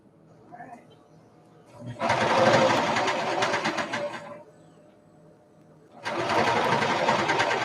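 A sewing machine stitches in two close, loud bursts of rapid mechanical chatter, each lasting a couple of seconds with a short pause between them, and a voice speaks faintly in the background.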